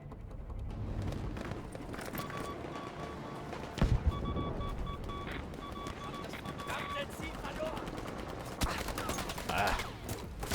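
Dense SMG fire from a player's weapon in Battlefield V, a steady busy barrage of rapid shots with loud bursts around the middle and near the end, set against the game's continuous battle noise.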